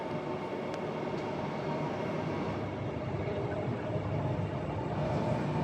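A Perth C-series electric train pulls away from a station platform, giving a steady, even rumble of wheels and motors that holds at one level throughout, with no voices.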